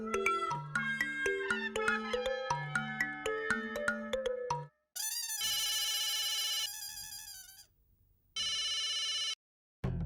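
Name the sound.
telephone ringing during a call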